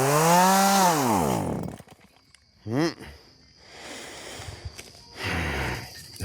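A chainsaw revs loudly during outdoor yard work, an opening high whine dropping as the engine slows, then short bursts of revving and idling separated by quieter pauses.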